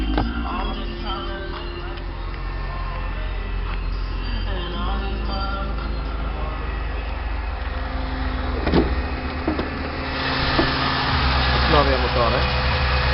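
Used car with 97,000 km and a new engine, idling steadily with a low continuous rumble, close by, with a person talking over it and occasional clicks and a brief louder burst.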